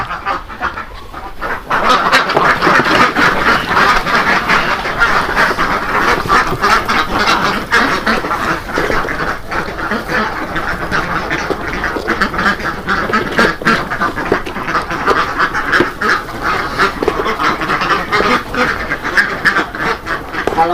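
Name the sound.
ducks quacking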